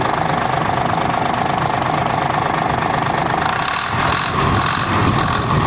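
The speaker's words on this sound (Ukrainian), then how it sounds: "Як чуть-чуть газу даєш, він як турбіна розганяється" A MAN D0826 LOH18 diesel engine rated at 260 hp runs loud and close on its first start, with a steady rough idle that shifts in tone partway through as the revs change.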